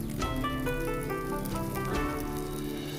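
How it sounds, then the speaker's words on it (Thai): Marinated catfish sizzles softly on a grill grate over low heat, a continuous crackle and spit under a layer of tonal background music. "ย่างไฟอ่อนๆ จน หนังมันกรอบ ด้านในสุกดีแล้วเราก็ กลับอีกด้านหนึ่งนะครับ"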